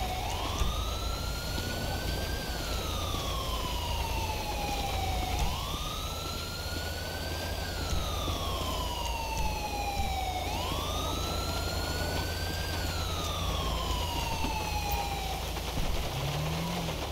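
Emergency vehicle siren in Grand Theft Auto 5 police patrol gameplay, a loud wailing tone rising and falling in slow repeated sweeps, steady and close, with an engine rumble underneath and no talk.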